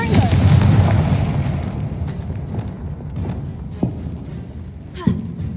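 The Confringo fire spell explodes in the video game Hogwarts Legacy with a loud, full boom that fades into a rumbling tail, followed by a few sharp, fainter impacts.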